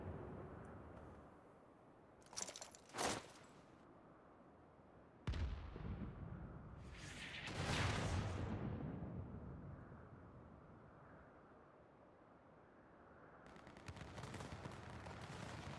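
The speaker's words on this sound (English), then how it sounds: "Fire the Shiva missile?" In Final Fantasy XIV, the Shiva missile fires and explodes as a series of heavy booming blasts. A sharp crack is followed by a swelling rumbling roar, then a fresh burst near the end.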